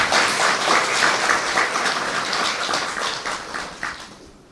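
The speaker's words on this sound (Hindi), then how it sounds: "फिर से ताली बजाओ अपने लिए।" An audience at a spiritual gathering applauds themselves, many hands clapping in a dense, sustained burst that slowly fades toward the end.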